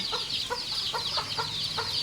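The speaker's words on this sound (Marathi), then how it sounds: "इकडे आहे कोंबड्यांचे पिल्लं झाले" Repeated soft clucking from chickens, a short call every half second or so, with faint chick peeping and a steady high background hiss.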